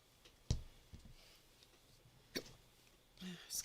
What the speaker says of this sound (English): Excuse me, I got the hiccups now.